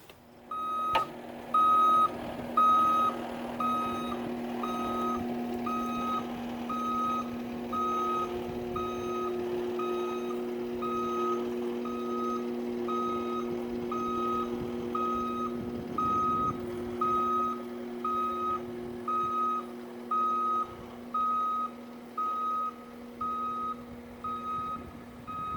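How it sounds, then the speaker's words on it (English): A skid steer's reversing alarm beeps steadily and evenly in the background for the whole stretch, layered over a constant low engine hum. "About the skid steer noise in the background."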